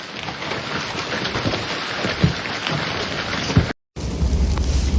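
Ping-pong ball-sized hail pelting homes and cars during a supercell thunderstorm in Arkansas, a dense, steady roar of impacts with a few sharper hits, cut by a brief dropout before the clatter resumes.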